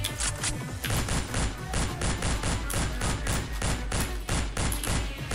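Sustained machine gun fire from the video game Madness Deathwish 2 on hard mode, with dense, rapid rounds crackling steadily and loudly for several seconds, without a break.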